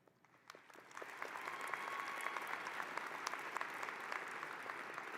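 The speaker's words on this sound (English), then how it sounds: "Let's give another round of applause to all of the graduates of the class of 2021." A large commencement audience applauds the graduates of the class of 2021 at a medical school ceremony, the clapping swelling after a quiet start into sustained, dense applause.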